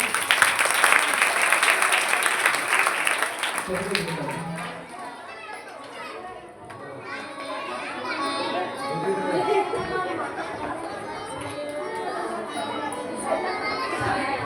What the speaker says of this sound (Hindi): जोरदार तालियां अतिथियों के लिए।